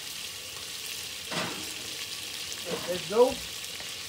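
Cabbage and Italian sausage frying in a pan over medium-high heat give a steady low sizzle, with a brief louder scrape of stirring partway through and a person speaking briefly near the end.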